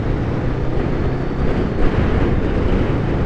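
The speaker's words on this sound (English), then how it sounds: "So windy today" Steady, loud wind rushing over the microphone while riding a Honda Rebel 500 motorcycle on a very windy day, a continuous broadband roar with a brief gust swell midway and no talk.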